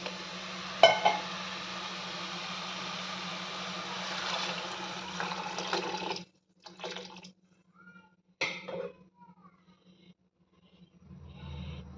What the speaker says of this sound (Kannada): ಐದು ಪಾವ್ ನೀರು ನಾನು ಹಾಕ್ತಾ ಇದ್ದೀನಿ